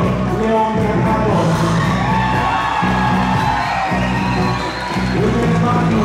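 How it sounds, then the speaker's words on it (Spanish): A concert audience at a quinceañera celebration whoops, cheers and shouts loudly and without a break, with music playing underneath the crowd noise. "aplauso para el señor León Bernardo."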